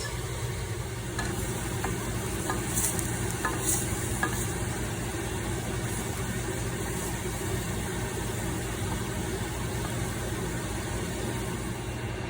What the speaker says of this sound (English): You go ahead and saute these in the butter until they are dry